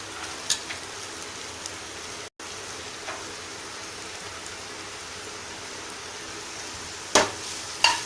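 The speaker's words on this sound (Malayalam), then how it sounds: "ഇനി നമുക്ക് ചെറുതായി കട്ട് ചെയ്ത് വെച്ചിരിക്കുന്ന സബോള ആഡ് ചെയ്യുക." Chopped onions sauté in a pan for tomato rice, a faint, steady hiss of sizzling broken by a few light clinks and scrapes of stirring.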